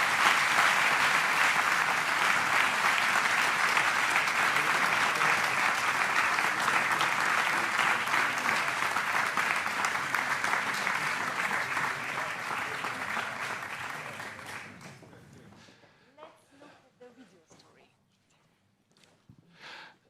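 Applause from a forum audience for the Danube Region strategy, a dense sustained clapping that holds steady for about fifteen seconds, then thins out into a few scattered claps and fades to near quiet.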